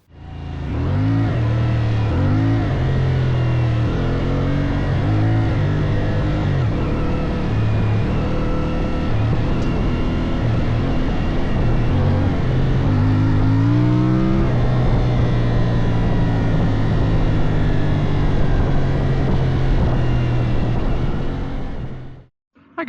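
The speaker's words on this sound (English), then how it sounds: "let's get out on a ride on the CFMOTO 450" CFMOTO 450MT adventure motorcycle with a 449cc engine out on a road ride, its engine droning loud and steady for the whole stretch, revs rising and falling through gear changes over constant wind rush.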